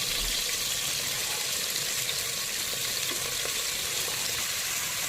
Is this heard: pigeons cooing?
no